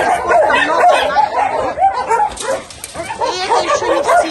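Puppies at a dog shelter bark, yip and whimper in a dense, overlapping chorus, close and loud throughout with no clear pauses.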